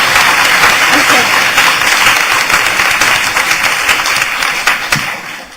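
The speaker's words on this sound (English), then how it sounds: "If we can give them a round of applause for everything that they did." Steady, loud audience applause at a community talk on intersectionality, dense clapping throughout that thins slightly toward the end, with no talking over it.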